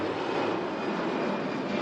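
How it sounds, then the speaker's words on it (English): A fixed-wing airplane engine droning steadily overhead, a continuous broad roar at constant loudness with no voices. "an airplane"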